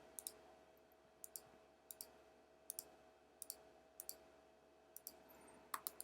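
Quiet, close computer mouse clicks while drawing with a pen tool in vector software, about a dozen crisp clicks spaced at irregular intervals over a faint steady background hum.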